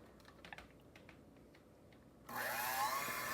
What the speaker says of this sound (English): we're just going to take our mixer here and we're just going to mix this together